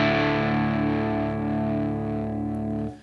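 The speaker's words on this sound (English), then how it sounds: "we're back with an electric guitar, and it sounds like this" A heavily distorted electric guitar rings out as one loud sustained chord, humming steadily for about three seconds before cutting off abruptly, with no voices.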